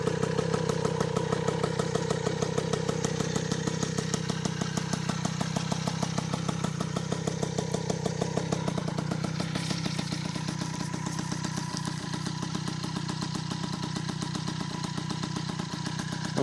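An MBK 51 moped engine on its original 14 mm carburetor idles steadily with a fast, even two-stroke putter and light mechanical clatter, close by and alone throughout.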